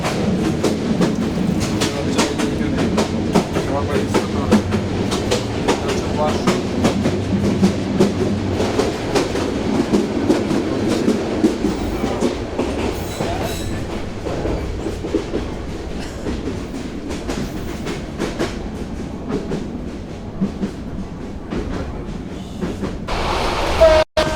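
From inside the Burimari Express train, it rumbles steadily along the tracks with continuous rattling and clatter, loud and close throughout, ending with a sharp bump.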